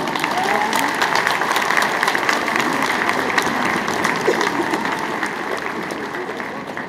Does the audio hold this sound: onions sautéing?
no